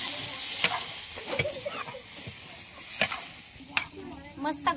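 A Maharashtrian chicken curry is stirred in a pot over a wood-fired clay stove. Irregular metallic scrapes and clinks sound over a low simmering sizzle, close up, with no one speaking.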